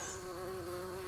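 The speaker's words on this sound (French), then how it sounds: "Bourdon qui a le cul blanc là." A white-tailed bumblebee hums in a steady low drone close by, continuous and even through the short moment, with nothing else audible.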